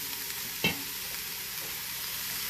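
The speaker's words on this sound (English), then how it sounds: "So now we're just going to cook this until it's nice and sweated down and the onions begin to turn translucent." Diced onions with hot and mild green chilies and de-seeded jalapenos fry in a pan, a steady close sizzle with one brief stir clatter early on, no voices.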